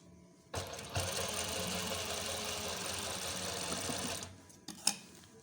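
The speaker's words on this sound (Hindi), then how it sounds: "ये सिलाई हमने लगा दी है।" A sewing machine stitches a frock, its steady mechanical whir running continuously for several seconds before stopping, followed by a couple of brief clicks and handling knocks.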